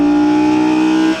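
A 602-horsepower naturally aspirated V10 in a 2017 Audi R8 V10 Plus holds a loud, steady high-pitched engine note close by, then eases off sharply just before the end.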